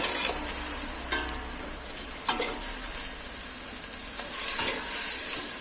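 Tomato and tomato paste fry in a pan for a home zucchini dish, a steady hiss of sizzling oil broken by a few sharp scrapes and clinks as a spoon stirs the mixture, close and alone without talk.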